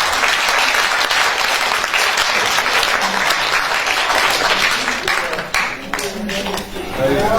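A theatre audience at a jubilee evening in the Griboedov Theatre breaks into loud, sustained applause, a dense wash of many hands that thins slightly toward the end as a voice speaks over it.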